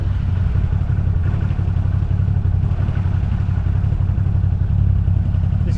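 Quad bike engine straining while bogged on tidal mud flats in Kurtjar Country, northern Australia, a loud, close, steady low rumble with clattering that holds without a break.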